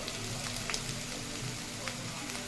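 Garlic and ginger fry in a pan with a steady, soft sizzle and faint crackling pops, close by and continuous, with no voices over it.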